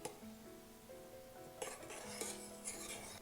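Soft scraping and clinking of a utensil against a pot, a few gentle stirring strokes with light metallic taps, close and quiet.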